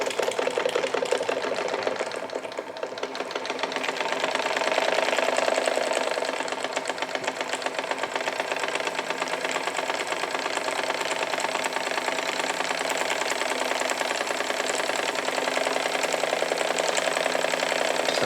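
A Jensen Model 25 toy steam engine runs on its first outing, its fast, even chuffing and whirring mechanism close and steady throughout, with a slight swell in the middle and no voices.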